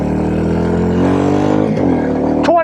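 A Royal Enfield Classic 350 motorcycle pulls hard on a highway, its engine loud and close with a rising, steady exhaust note that climbs in pitch as it accelerates, plus wind buffeting.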